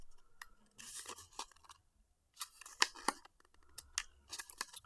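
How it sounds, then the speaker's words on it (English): Scored cardstock being gently folded for layered paper butterfly wings: quiet, close paper crinkles, creases and soft handling rustles in short bursts separated by near silence. "On the side of the cardstock that has been scored, you're going to go ahead and very gently fold."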